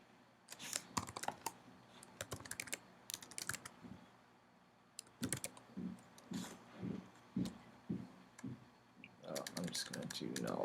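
Typing on a computer keyboard while programming: bursts of quick, crisp key clicks in uneven runs, close and fairly soft, with a few pauses between clusters and a voice now and then.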